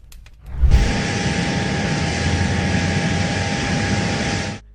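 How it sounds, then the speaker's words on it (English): An aircraft passes by, a loud, sudden roar of broadband jet-like noise that swells in abruptly and holds steady at close range before cutting off sharply. "Flyby."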